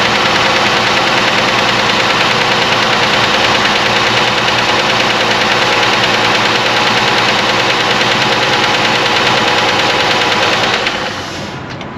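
A Chrysler engine runs with a misfire, a loud, steady mechanical clatter with an uneven knocking pulse that goes on continuously and cuts off near the end.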